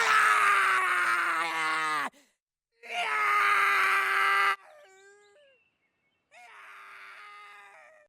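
Cartman from the animated series South Park screams at length in two long, loud, strained cries separated by a brief pause, followed by a quieter whining wail and a final lower moaning cry, with no other sound around them.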